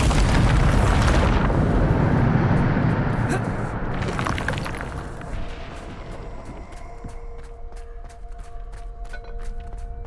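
A Bombarda spell explosion in Hogwarts Legacy: a loud, roaring blast that fills the first seconds, followed by a second burst and a long fading rumble with scattered debris ticks, while a voice speaks over it.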